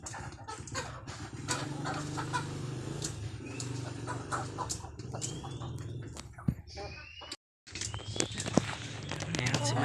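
Domestic chickens being fed scratch and cluck around the feeder with scattered pecking and rustling throughout. A person talks intermittently over the birds, and there is a brief dropout near the end.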